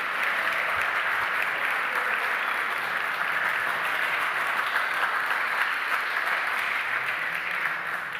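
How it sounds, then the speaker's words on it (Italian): Steady, dense applause from an audience at an academic year inauguration for mechatronics technical academies, honoring the academy directors, continuous and even throughout with no talk over it. "Vogliamo fare un applauso a questi direttori?"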